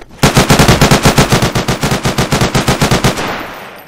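Rapid automatic gunfire from a gun in the video game Garry's Mod during police roleplay, a loud, close burst of about twenty evenly spaced shots lasting around three seconds before cutting off.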